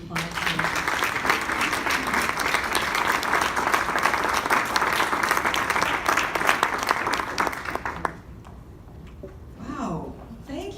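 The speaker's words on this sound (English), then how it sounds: "Can we give another round of applause?" Loud, sustained audience applause lasting several seconds, then fading out abruptly as a voice speaks briefly over the quiet.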